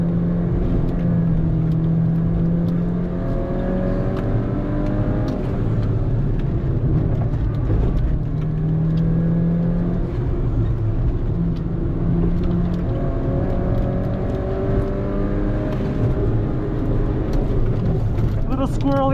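A 2013 Mini Cooper GP's engine revs steadily under load on a race track, with pitch rising and dropping as gears shift, continuous and close throughout.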